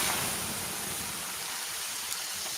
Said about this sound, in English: The sound of water being poured on 800-degree rocks